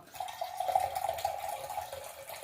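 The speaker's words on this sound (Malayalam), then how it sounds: "നമ്മൾ ഈ ഇത് ഒഴിക്കുമ്പോൾ ഇതിൻ്റെ കൂടെ സോഡയാണ് ഒഴിക്കുന്നത്." Lemon soda pours into a glass of homemade arrack in a steady liquid stream with a bubbling, fizzing trickle, close and fairly quiet.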